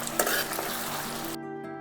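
Raw banana pieces being stirred in a hot oiled pan, a close bright sizzle with a scrape near the start that cuts off abruptly near the end, leaving a faint hum.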